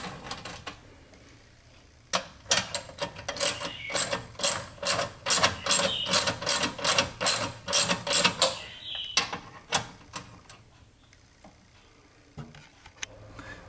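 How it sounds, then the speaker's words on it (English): A hand ratchet clicks in a quick steady series while loosening the burner element of a Viking electric range, close and alone, then falls quiet. "you can use your ratchet to go ahead and loosen the element."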